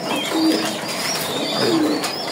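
Racing pigeons of good breeding lines in a loft, nesting with eggs and squabs, give repeated low throaty coos, two clear phrases over a steady ambient hiss, fairly close and moderately loud.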